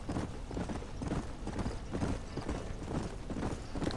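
Horse hooves clip-clop steadily through the Western open-world game Red Dead Redemption, a continuous rhythmic trot heard close and fairly loud amid ambient game sounds.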